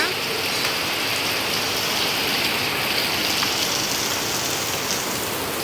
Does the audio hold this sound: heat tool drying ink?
no